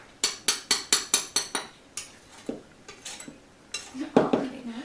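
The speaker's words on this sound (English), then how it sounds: "just tap in the knife on the cup like this, scooch excess flour out" A knife taps sharply on a measuring cup of flour, about seven quick even clinks in a row, followed by softer scattered scrapes and knocks of utensils against the cup.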